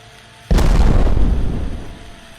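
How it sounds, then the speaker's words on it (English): A frag grenade detonates in an Unreal Engine video game: a sudden loud boom after a short quiet moment, with a rumbling tail that slowly fades. "We have our frag grenades."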